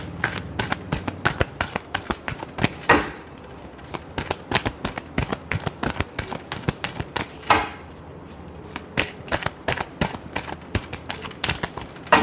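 Tarot cards are shuffled steadily, a long run of crisp riffling snaps and flutters in quick, uneven rhythm, close and fairly quiet, with no talking.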